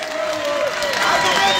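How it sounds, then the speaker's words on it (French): A crowd claps and cheers at a presidential campaign rally for candidate Martin Fayulu in Uvira, South Kivu. The steady applause lasts throughout, mixed with a voice on a loudspeaker. "Applaudissez pour lui."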